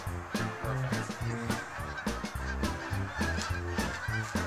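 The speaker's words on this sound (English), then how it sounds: "That is a crazy amount of geese." A large flock of geese honking nearby, a loud, continuous overlapping chorus of repeated nasal honks with no talking.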